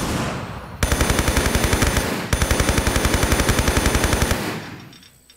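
Rapid automatic gunfire from Tomb Raider III aimed at a dinosaur, loud and close in two sustained bursts of evenly spaced shots with a short pause between, then fading out.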